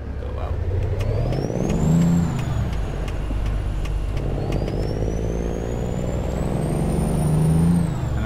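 A Western Star 4900 truck in American Truck Simulator drives with a loud, steady engine drone that rises and falls through gear changes, with air-brake hisses as it slows to a stop.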